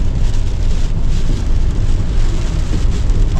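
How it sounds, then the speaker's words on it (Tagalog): Rain falls on a mountain as a dense, loud, steady roar of wash and drops with a low rumbling undertone, no voices. "Guys, nabot kami ng ulan,"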